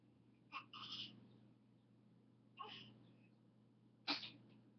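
A baby sneezes three times, each a short, sharp burst spaced a couple of seconds apart, faint and fairly distant over a low steady indoor hum.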